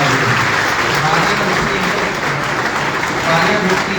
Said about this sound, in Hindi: तालियां रुकनी नहीं चाहिए